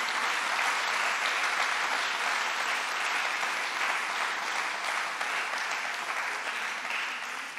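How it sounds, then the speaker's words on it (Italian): Sustained applause from a sizable conference audience, a dense, even wash of clapping that holds steady for several seconds before easing slightly at the end. "stava partendo un applauso, facciamolo"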